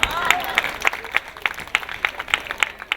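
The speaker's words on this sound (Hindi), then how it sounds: "आपण ताली मारचंदी शीत कटेवा लागि" Scattered audience clapping at an Odia stand-up comedy show, a series of sharp individual claps at a steady irregular rhythm over a low crowd murmur, fairly faint and distant.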